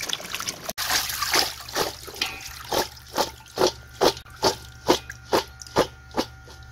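Wild ladybell herb roots are washed by hand in water, making close, rhythmic sloshing swishes that grow steadier and more regular, about two per second.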